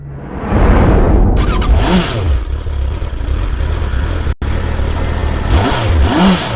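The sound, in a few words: motorcycle riding sound effect in horror story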